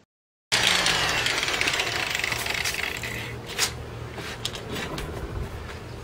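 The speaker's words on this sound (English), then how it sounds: "I'm letting the grinder do all the work." An angle grinder polishes the bullnose edge of a tile, giving a continuous loud whirring grind with faint rhythmic variation as it moves back and forth, plus a couple of brief sharper scrapes.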